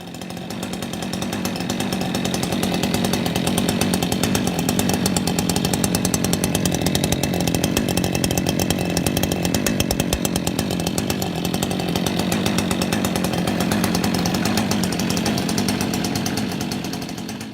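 Husqvarna 562XP chainsaw with a modified muffler and the spark arrestor removed, running steadily at high revs with a loud, raspy, buzzing whine that holds nearly unchanged throughout and carries no talk.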